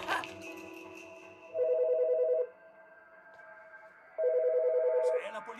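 Telephone ringing in the video game As Dusk Falls: two loud, sustained electronic ring bursts separated by a quiet pause, standing out over a low ambient game background.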